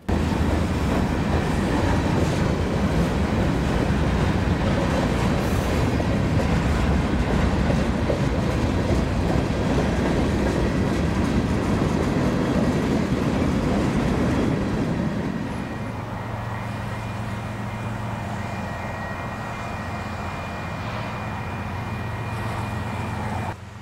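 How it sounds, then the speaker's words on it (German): A long westbound Union Pacific tank train rumbles past on the Front Range Subdivision at Sherman Hill with steady rolling noise and clacking, then the roar drops off as it moves away, leaving a lower hum. "schleicht sich hier über die Front Range Subdivision ein westwärts fahrender Tankzug"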